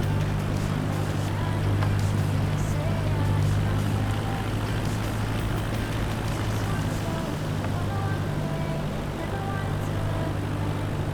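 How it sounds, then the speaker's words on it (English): Propeller aircraft engine droning steadily at low power in Microsoft Flight Simulator 2024, a constant low hum with a buzzing tonal layer, faint chatter in the background. "Right, engine's back on, but engine's back on at a low amount."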